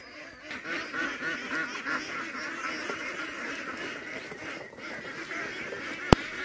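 Ducks at a duck farm, a busy flock calling together in a dense, continuous layer of honking quacks at moderate distance, with one brief sharp knock near the end.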